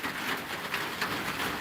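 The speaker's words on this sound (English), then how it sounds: "But yes, it is raining." Steady rain falling outdoors near a chicken coop on a chilly day, a continuous broadband hiss of drops on surfaces with no breaks, fairly close and even in level, no voices.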